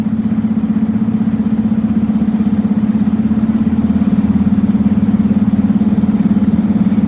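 A big truck engine, downshifting into lower gears, drones loudly and steadily from inside the cab with an even, throbbing pulse and no voices.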